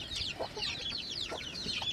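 White turkeys, newly hatched, and chickens in a backyard keep up a busy, high-pitched chorus of chirps and clucks at moderate distance, with no one talking.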